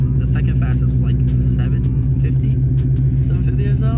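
Steady low rumble of a 1,000-horsepower performance car engine running continuously, loud and close, with no clear revs or passes.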